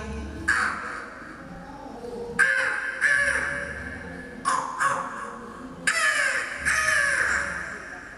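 A mimicry artist imitates a crow during a comedy performance, giving a series of loud, harsh caws in separate bursts with brief pauses between them.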